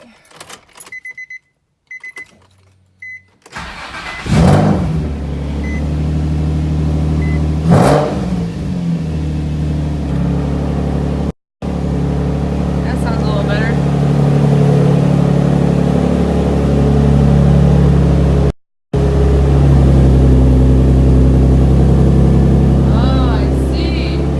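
A Nissan 350Z engine cranks and fires up, then settles into a loud, close idle with several sharp throttle revs rising and falling, interrupted by brief gaps of silence.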